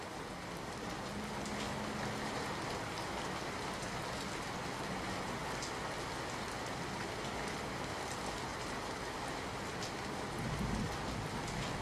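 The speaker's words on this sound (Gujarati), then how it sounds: "સાબરકુંડલામાં ધોધમાર વરસાદ વરસ્યો છે" Heavy rain pours down steadily in a continuous dense hiss, with scattered louder drops and a faint low rumble underneath, and no voices.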